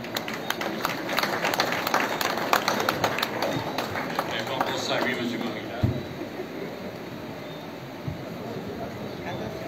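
Crowd applause and clapping at an outdoor patronal festival in Le Lorrain, Martinique, greeting politician Alfred Marie-Jeanne, moderately loud and continuous with scattered claps and crowd noise.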